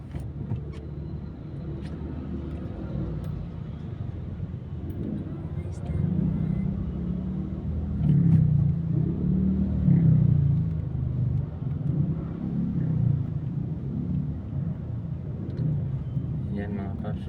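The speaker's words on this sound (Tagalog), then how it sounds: "medyo nagsisikip po dito yung mga sasakyan po, dahil may iba po dyan nagdadrop po ng mga pasahero, mga taxi at mga single na motor" Congested traffic at Eastwood, with cars, taxis and motorcycles dropping off passengers, makes a continuous low engine rumble that swells in the middle, with someone talking over it.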